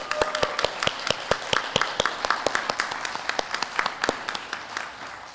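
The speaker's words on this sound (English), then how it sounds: "we would love to know who you are and give you a great big round of applause" Sparse applause from a small group at a Sunday church service, individual claps clearly separated in a loose rhythm, moderately close and fairly quiet.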